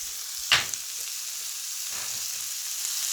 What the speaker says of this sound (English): As long as it's sizzling, you're on the right path.